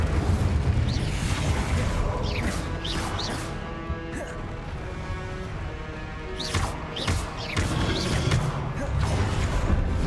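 Incendio fire spells and combat effects in Hogwarts Legacy produce a steady roar of crashes, bursts and whooshing impacts, loud and close, with several sharp hits standing out from the din.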